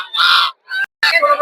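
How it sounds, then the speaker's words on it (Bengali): Native ducks at a livestock market give three loud, nasal quacks at close range, one long and two shorter, with brief silences in between. "দেখতে পাচ্ছেন দেশি হাঁস,"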